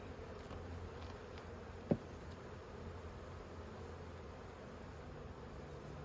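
Honeybees buzz in a faint, steady hum around a hive, a continuous low drone with a single brief louder pass as one flies close to the microphone.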